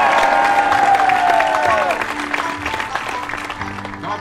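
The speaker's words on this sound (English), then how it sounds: "I want everybody to cheer as loud as you can for David LaDart and his service" A large crowd at a Daytona dedication event cheers and applauds loudly for a military veteran, a dense roar of clapping and shouting that fades slightly after a couple of seconds but continues steadily.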